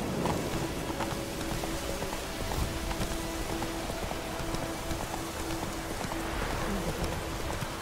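Video game rain in The Witcher 3: steady rain pours down with a dense, constant patter, loud and enveloping, alongside a faint clopping of horse hooves and a low tonal hum.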